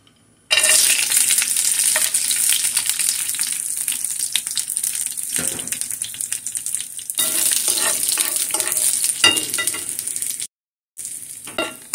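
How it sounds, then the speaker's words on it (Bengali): Cashew nuts and raisins fry in melted ghee in a pan, giving a loud, steady crackling sizzle with scattered clicks of stirring, broken by a short pause near the end. "এখানে কিশমিশ আর কাজু বাদাম ভেজে উঠিয়ে নিয়েছি।"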